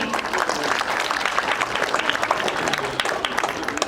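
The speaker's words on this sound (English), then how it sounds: "Please, a huge round of applause once again" A crowd applauds at an International Women's Day event, a dense, lively clatter of many hands that stays steady and fairly loud, with faint voices mixed in.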